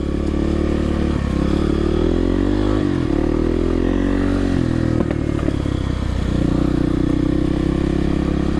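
Kawasaki KLX 300R dirt bike riding a woods trail, a continuous close engine drone that rises and dips with the throttle, with clattering and scraping over rough ground.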